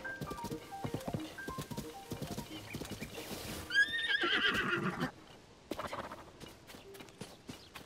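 A horse whinnies amid hoofbeats clip-clopping in The Legend of Zelda: Tears of the Kingdom, with game effects and a sharp burst of noise midway.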